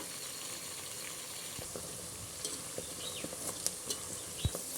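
Homemade ayurvedic hibiscus hair oil simmers in a pan on a slow flame, a soft continuous bubbling hiss with a few faint pops and light clinks scattered through, no voices.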